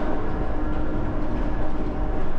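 A Eurotunnel train heard from inside a vehicle carried aboard, a steady loud rumbling roar of rail travel with faint rhythmic rattling, continuous and close, with no voices.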